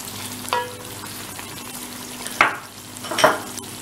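Chopped capsicum and chicken fry in a pan for chow mein, a low steady sizzle broken by three scraping stirs, the last two louder and close together near the end.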